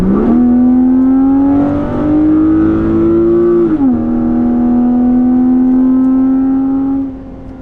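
A BMW Z4 Coupe engine running in sport mode while climbing a hill, a steady loud drone that rises slightly in pitch, dips with a gear change, then settles and fades away near the end.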